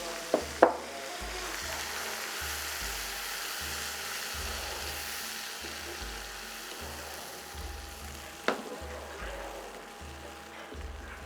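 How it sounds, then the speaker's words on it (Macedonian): Vegetables fry with onion in a pan, a soft continuous sizzle with a low rhythmic hum underneath and a few sharp clinks of utensils. "Сега ќе го ставам патлиџанот да се пржи кај кромидот."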